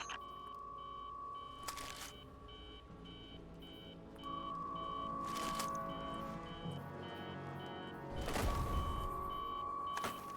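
Repeating electronic alarm beeps sound from a video game set aboard the Actium War Rig, a steady tone pulsing in regular bursts at moderate loudness over continuous mechanical hum, with no talking.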